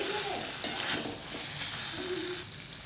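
Cashew paste with spices stirred and sautéed in a pan while making Mughlai chicken, a soft steady sizzle with scraping spoon strokes and a sharp clink near the start, close and fairly quiet.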